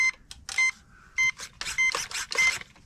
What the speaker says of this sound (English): And you hear that beeping. That beeping lets you know that the something's not hooked up right.